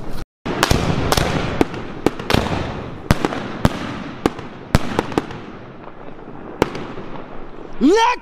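3-inch firework shells fired from a triplex rack, a series of sharp, loud launch booms spaced about half a second to a second apart, each trailing a crackling wash, with a brief rising whistle at the end.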